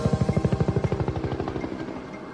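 A combat helicopter patrols over the Area 51 desert, its rotor thumping in a fast, regular beat that starts strong and close, then gradually fades and smears as it moves away.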